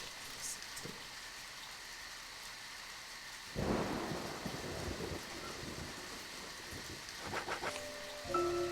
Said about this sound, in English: Doesn't matter, it's raining anyway.